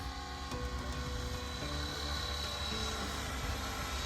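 An RC helicopter flies with a continuous, even rotor and motor drone at moderate distance. The sound holds steady for the whole few seconds, with no voices.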